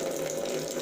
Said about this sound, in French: nous ouvrons le robinet et là, l'eau coule sans souci